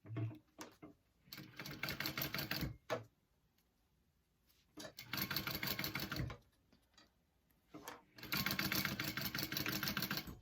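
Three separate runs of a sewing machine stitch down the sides of a vinyl pouch, each a close, rapid mechanical chatter lasting one to two seconds, with near silence and faint handling noises between them.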